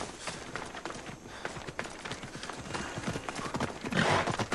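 Hooves clip-clop rapidly and loudly as a horse gallops up in Assassin's Creed Odyssey, the rhythmic beats growing stronger toward the end, with a brief whinny-like swell near the close.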